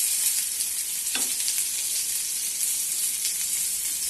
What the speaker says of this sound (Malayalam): ലോ ഫ്ലെയിമിൽ വെച്ച് വേണം നമ്മൾ വറുത്തെടുക്കേണ്ടത്